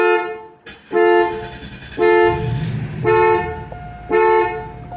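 Cadillac Eldorado alarm system blaring in repeated loud horn honks, four long harmonic blasts about a second apart with short gaps, close and dominant, a low engine rumble briefly underneath.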